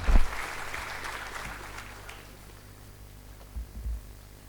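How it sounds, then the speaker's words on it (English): Round of applause from a seated audience at an admission-mission inauguration hall, welcoming the keynote speaker; a broad wash of clapping fades out after about two seconds, leaving a low steady hum with a couple of soft thumps. "With a big round of applause,"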